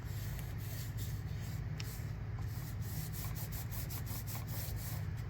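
Foil is rubbed onto a mixed media craft tag, producing a continuous scratchy friction sound with quick repeated strokes, close and steady under a constant low hum.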